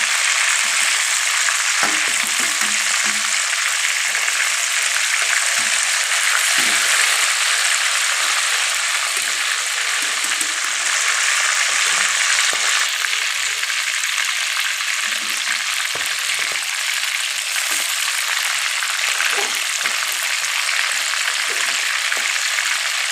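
Chicken pieces frying in oil in a saucepan, a loud continuous hiss and sizzle with small crackles that holds steady throughout and has no talk over it.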